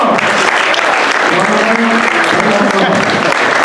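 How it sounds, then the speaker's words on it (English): Loud, continuous applause from a crowd at a tabletop gaming event honoring the quiz host, dense clapping with some voices mixed in. "let's give this man, young man, a very round of applause"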